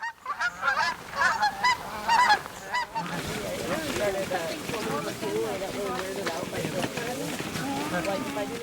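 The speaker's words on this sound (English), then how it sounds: "once the geese are in the pot and they're kind of settling down and stuff" Dusky Canada geese honking during a banding session, a flock of repeated nasal honks close by and overlapping, with someone talking over the calls after the first few seconds.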